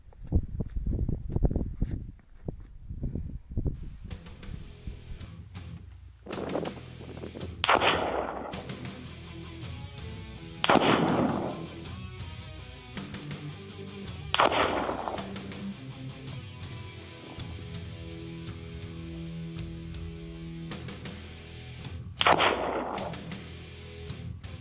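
Three loud .30-06 rifle shots with 168-grain SMK handloads on an outdoor range, each a sharp crack with a rolling echo, spaced several seconds apart, with some handling noise before the first shot.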